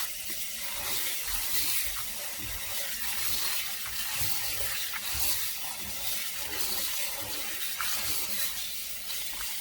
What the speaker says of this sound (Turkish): Tekrardan otlarımı sudan geçiriyorum.